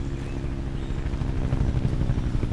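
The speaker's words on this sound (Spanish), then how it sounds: "aquí hay helicóptero" Helicopter in the video game Road 96, a steady low rotor drone with rumbling engine noise that builds slightly louder over a couple of seconds, heard alone without talk.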